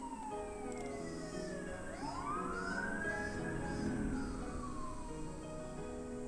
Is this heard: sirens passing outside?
yes